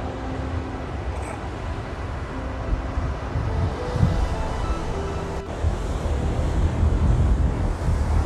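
Sea waves at Kanyakumari beach at sunrise roll and break in a steady low roar, with wind buffeting the microphone throughout and a slightly louder surge toward the end.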